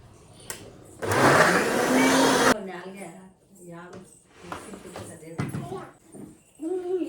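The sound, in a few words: mixer blender blending muskmelon milkshake with ice cubes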